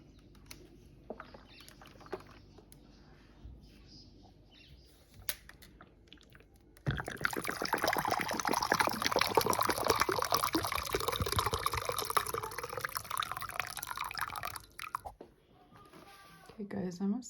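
Water poured from a jug into a steam iron, quiet handling noises at first, then a sudden steady gurgling stream for several seconds that stops abruptly, followed by a few trickles and knocks.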